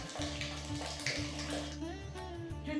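Curdled milk poured through a clean cloth set in a strainer gives a steady, continuous stream of liquid splashing and trickling, close and fairly loud, with no talking.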